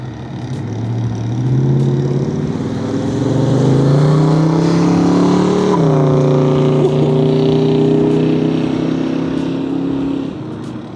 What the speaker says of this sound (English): Ah, that's a nice rumble.